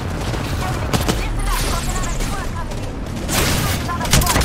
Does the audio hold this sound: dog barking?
no